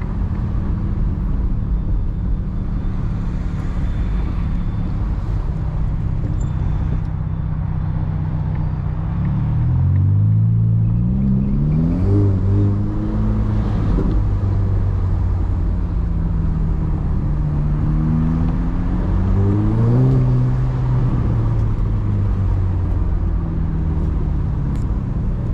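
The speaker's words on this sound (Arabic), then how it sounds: "هذا الصوت السياره حق البوري" A 2021 Ferrari Roma heard while driving, a loud continuous low exhaust rumble with rising and falling engine pitch as it revs through gears, steady throughout with no talk.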